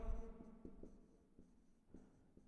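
Pen writing out a maths solution on paper, quiet scratchy strokes with a few soft taps, close but faint, no talking.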